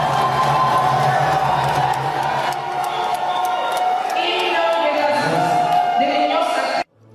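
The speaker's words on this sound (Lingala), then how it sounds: "Félix-Antoine Tshisekedi Tshilombo, s'est fait accompagner d'un tonnerre d'applaudissements" A crowd greets President Félix Tshisekedi's arrival at Congress with loud, sustained applause, cheering and whoops, a dense roar filling the hall before cutting off abruptly at the end.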